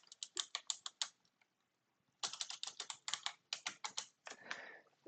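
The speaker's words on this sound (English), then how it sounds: "you could just type in the code here" Typing on a computer keyboard to enter a billing code, quick bursts of close key clicks with a pause of about a second between runs, no voices.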